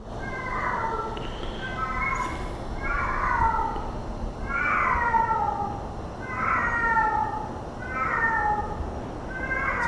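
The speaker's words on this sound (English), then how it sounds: "Sounds like a cat, but that is wild." A cat meows about five times in a slow, evenly spaced series of drawn-out, wailing calls, moderately near over a low background hum, heard at an old slaughterhouse.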